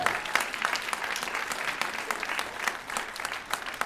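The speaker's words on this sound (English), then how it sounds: "Kareem Senior High School Choir. Round of applause" Audience applauds a high school choir at a concert, a steady wash of many hands clapping throughout with no one speaking.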